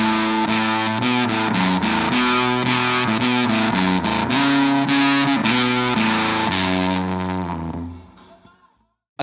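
Crunchy, lightly distorted electric guitar with both pickups together plays a melodic lead line through a Soma 63 amp, with a quick, subtle slapback delay from a Llama Xtreme trailing each note, fading out at the end.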